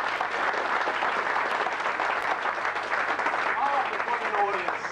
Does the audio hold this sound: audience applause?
yes